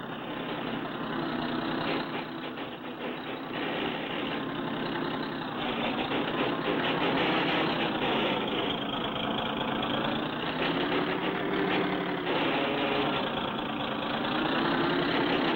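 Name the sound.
car engine pulling people up with a rope, cartoon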